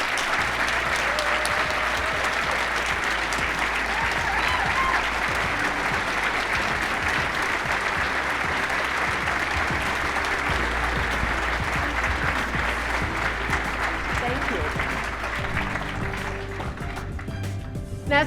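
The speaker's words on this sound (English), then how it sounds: "let's give them a final round of applause." Sustained audience applause at an evening charity golf classic program, steady dense clapping from a large crowd lasting throughout, loud and continuous before tapering slightly at the end.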